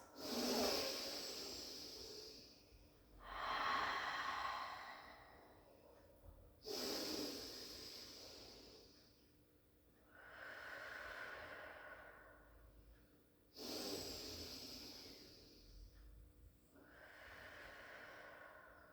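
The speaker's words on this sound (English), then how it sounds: "just hold into that child's pose, taking deep in-out breaths" Slow, deep breaths held in child's pose during a Pilates session: three long cycles of audible exhale and inhale, close and fairly soft, with no talking.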